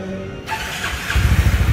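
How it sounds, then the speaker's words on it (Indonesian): A Qooder four-wheeled scooter's engine is started: a short starter whir gives way to a low, pulsing engine rumble that builds and idles up close, with no voices. "nah seperti itu ketika di starter."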